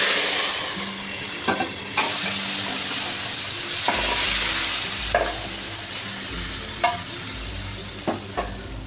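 Hot tadka sizzling and frying as it is poured into a pot of masoor and moong dal, a steady loud hiss with occasional sharp crackles and stirring clatter.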